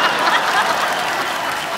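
Dense, steady applause from a studio audience at a Hindi TV comedy show, loud and close, filling the whole moment without a break.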